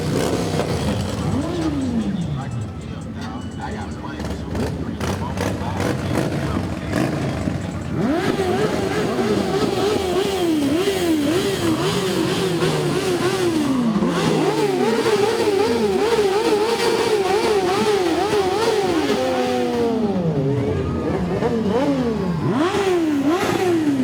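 Sport motorcycles from a sport bike riders' club rev and rumble past during the 2019 Harrisburg holiday parade, engine notes rising and falling loudly, with crowd noise and a public address voice mixed in.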